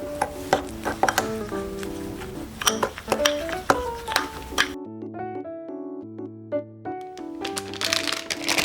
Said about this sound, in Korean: 여기에 설탕을 넣고 잘 섞어주세요.